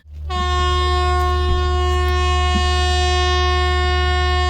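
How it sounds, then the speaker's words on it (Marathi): A loud, sustained train horn blares continuously at Daund railway station, a steady tonal blast close by that holds without a break. "बघितला रेल्वेचा आवाज"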